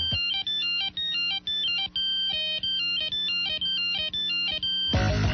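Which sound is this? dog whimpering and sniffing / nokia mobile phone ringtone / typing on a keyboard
nokia mobile phone ringtone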